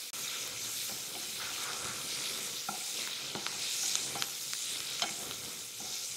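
Finely chopped carrot sautés in a pan, a soft steady sizzle with occasional scraping stir clicks from a spoon, fairly faint and close, with no talking.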